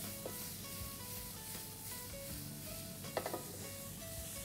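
Prawns hit a pan of fried onion and garlic over high heat, giving a steady, soft sizzle and hiss that runs throughout, with a few brief clinks of stirring near the end.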